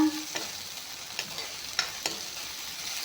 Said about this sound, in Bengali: এয়া চব কণীখিনি ভাজি ল'লোঁ এতিয়া